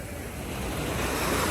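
Surf breaking at a beach, heard as a steady broadband wash of sea waves with wind noise on the microphone, fairly loud and gradually swelling, with no voices.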